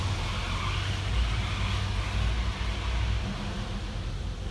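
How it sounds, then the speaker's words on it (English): A steady rolling rumble with a soft hiss runs unbroken throughout as a Toyota 4Runner's tires move slowly across a high-gloss epoxy floor, fairly close. "That noise you're hearing is just the tires on the high gloss epoxy floors"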